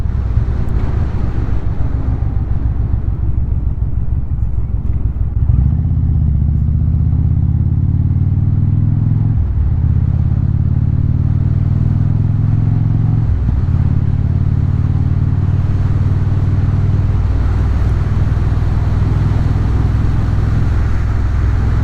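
A motorcycle rides along a backroad, its engine rising and falling through gear shifts under heavy wind rush, loud and close throughout.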